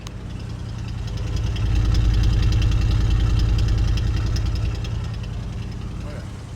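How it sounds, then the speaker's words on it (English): A 1973 Ford Bronco engine idles close by with a steady, rhythmic chug that swells slightly in the middle and then settles. "Nice healthy sound coming from the Bronco."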